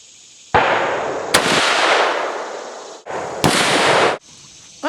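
A scoped Lee Enfield sporting rifle fired outdoors at a 2-liter bottle: loud, sharp cracks, each trailing into a long rolling echo, heard alone.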